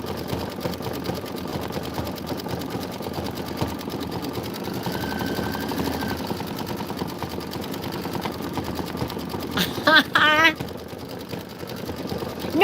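An embroidery machine stitches a Kimberbell winter design with a tight stitch, its fast, even needle chatter running steadily beneath a voice, with a brief louder clatter near the end.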